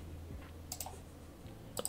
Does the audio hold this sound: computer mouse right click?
yes